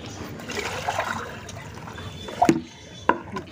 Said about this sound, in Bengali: আগে আমি এই গামলার জলটাকে ফেলে দিচ্ছি